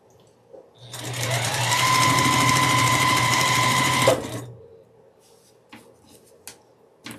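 A sewing machine stitches half square triangle quilt pieces together in one steady run of about three seconds, close and loud, then stops, followed by a few faint handling clicks.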